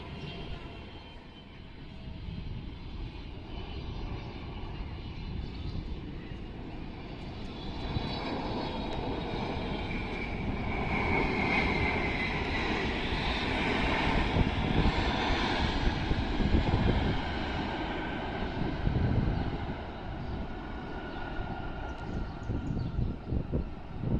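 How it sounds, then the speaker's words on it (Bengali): A Boeing 777's engines roar steadily on approach to land, building louder and broader as the plane draws nearer, a continuous heavy drone with no speech. "সবচেয়ে বড় বিমান বোয়িং ট্রিপল সেভেন মডেলের বিমানটি"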